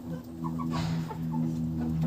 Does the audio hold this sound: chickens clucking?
yes